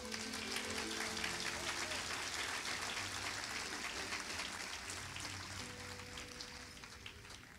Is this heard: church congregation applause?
yes